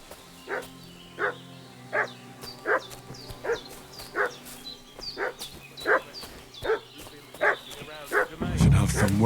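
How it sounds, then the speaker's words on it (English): A dog in Kingdom Come: Deliverance II barks and fusses in a village, a dozen evenly spaced yelping barks at mid distance, ending in a louder rustling burst. "What's that dog making such a fuss about?"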